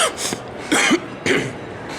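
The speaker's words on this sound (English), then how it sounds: "I'm coughing so much" A person in a shopping mall coughing three times in quick succession, harsh, close and fairly loud bursts spaced about half a second apart.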